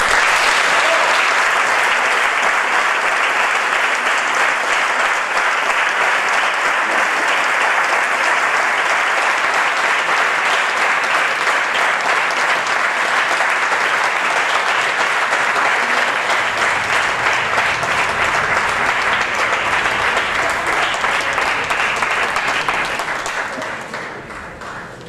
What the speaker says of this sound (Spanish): lo único que puedo pediros es un aplauso para recibirnos